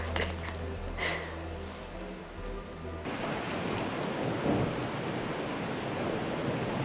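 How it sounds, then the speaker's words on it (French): Rain noise at a manor house at night hisses steadily, starting as a softer patter and then turning abruptly into a loud, dense downpour wash. "Non, là, c'est la pluie."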